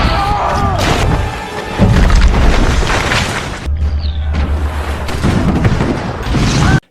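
Heavy booming blasts of cannon fire amid chaotic battle noise, loud and close, with thuds and crashes layered over a rumbling background.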